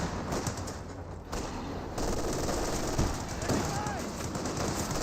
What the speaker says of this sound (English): Grenadiers are receiving a bit of fire as well.